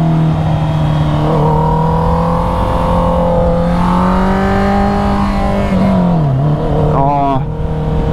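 A motorcycle engine revs loudly and steadily throughout, with the pitch rising and falling as the throttle is worked and a sharp downward sweep near the end, all at close range.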